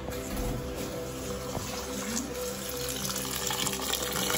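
Water from a tap runs steadily while rice is washed in a farmhouse kitchen in Ambewela, Sri Lanka, a close, continuous gushing with no talk.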